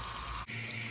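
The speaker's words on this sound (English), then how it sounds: "I'm gonna wash them in cold water." Cold tap water runs into a bowl of blackberries being rinsed, a steady hissing gush that cuts off abruptly halfway, leaving a quieter, lower filling sound.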